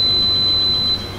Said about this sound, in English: 1 minute timer went off.